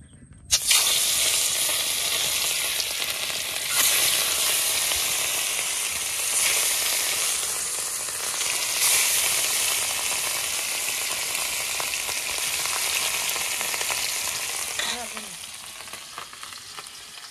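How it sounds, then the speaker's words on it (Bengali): Pieces of catla fish hit hot mustard oil in a wok and sizzle loudly, a bright steady crackling hiss that holds close and even for the whole stretch. "গরম হয়ে গেছে, এবার মাছগুলো ভেজে নেব।"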